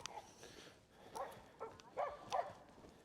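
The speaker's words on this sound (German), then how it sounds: "Die Hunde bellen und machen." Several dogs bark in short, separate bursts at an off-leash dog get-together, moderately distant and fairly faint, with brief pauses between the barks.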